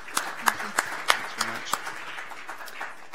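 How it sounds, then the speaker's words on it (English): Scattered hand claps from a conference audience after a medical workshop talk: a handful of sharp, separate claps that soon thin out, with voices talking underneath. "We'll give you a round of applause."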